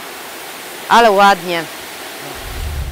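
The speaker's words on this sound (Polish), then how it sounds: "Wodospad" A waterfall on the Romania–Serbia border pours as a steady broadband rush of water, with a person briefly speaking over it nearby.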